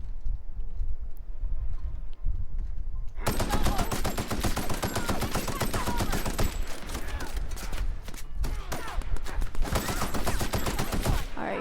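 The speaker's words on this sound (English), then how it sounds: "Maybe I should shoot him first." Rapid bursts of automatic gunfire from a firefight in The Outer Worlds video game, starting after a quiet opening and then hammering on dense and loud with short pauses between volleys.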